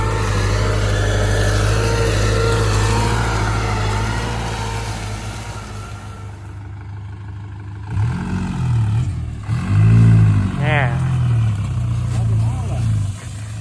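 A 45 hp Kubota tractor engine drones loudly and steadily at close range, easing off partway through, while someone talks over it.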